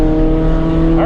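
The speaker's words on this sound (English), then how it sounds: "right away, that low-end torque, the engine feels a lot less reluctant to go than the previous version of the 86" Toyota GR86 engine pulling hard on a race track, a steady loud drone with sustained engine tones held throughout, close-up from inside the cabin.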